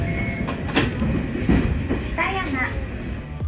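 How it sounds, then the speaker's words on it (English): A Toyama Chihō Railway narrow-gauge main-line train runs along the track with a steady, close rumble, soft rail clatter and a few brief squeals, plus a short voice-like tone midway. "This is the Toyama Chihō railway main line."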